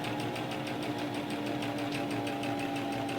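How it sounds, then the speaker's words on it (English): A sewing machine stitches along an existing fold in a thrifted wrap dress being refashioned into a wrap blouse, running at a steady, even whirring pace with rapid needle clatter, close and continuous throughout. "I'm going to stitch right in that existing fold"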